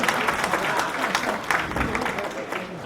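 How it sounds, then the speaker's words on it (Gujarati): An audience at a Swaminarayan Hindu temple culture program in Allentown, Pennsylvania, applauds to welcome Acharya Maharaj, a dense steady clapping from a crowd filling the short clip. "નરનારાયણ દેવ, લક્ષ્મીનારાયણ દેવની તાળીઓથી આપણે પરમ પૂજ્યમાં આચાર્ય મહારાજનું અભિવાદન કરીશું."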